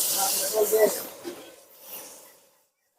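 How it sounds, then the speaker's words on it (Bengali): Garlic added to hot oil in a busy restaurant kitchen, right after onions finished frying, sizzles and hisses loudly at first, then fades toward quiet, with a voice speaking over it. "এবার রসুনটা দিয়ে দেবো"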